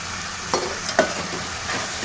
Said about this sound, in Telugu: ఇప్పుడు ఇవి అటు ఇటు కలుపుకోవాలి.